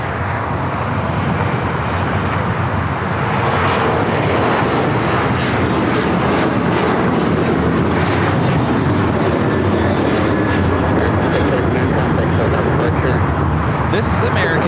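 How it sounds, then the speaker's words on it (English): American Airlines Boeing 737-800 taking off at LAX: a loud, continuous engine roar and rumble that holds for the whole stretch, with people talking over it. "This is American Airlines 613 taking off to Chicago on the 737-800."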